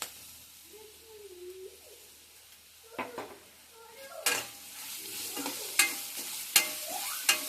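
Bitter gourd curry with green chili being mixed and fried on a low flame in a pan, a soft sizzle under scattered clinks and scrapes of a spoon stirring, growing busier toward the end, no talking.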